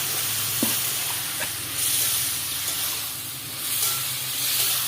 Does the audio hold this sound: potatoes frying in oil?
yes